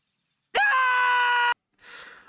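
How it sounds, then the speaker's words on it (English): Rigby, the cartoon raccoon from Regular Show, lets out a single loud, sustained scream lasting about a second, with a sharp onset and abrupt stop, followed by a brief softer breathy sound. "He just starts screaming."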